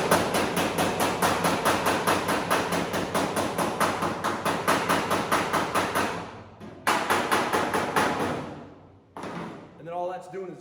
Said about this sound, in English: I'm just taking that heat and hammering, you know, along the edge of it with the hammer